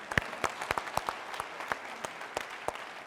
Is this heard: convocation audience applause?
yes